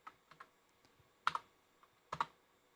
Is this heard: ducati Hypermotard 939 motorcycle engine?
no